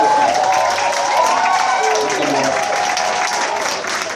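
Audience applause and cheering at a live hip-hop concert at London's Jazz Cafe, a dense steady wash of clapping and crowd noise filling the whole stretch at a loud, even level.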